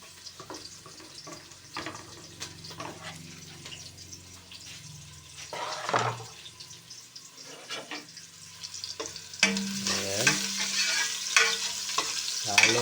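Onions frying in a pan for arroz caldo while being stirred, with repeated clattering scrapes over a sizzle that grows louder and busier toward the end.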